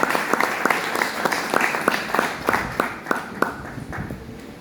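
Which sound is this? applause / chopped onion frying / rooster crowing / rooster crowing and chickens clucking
applause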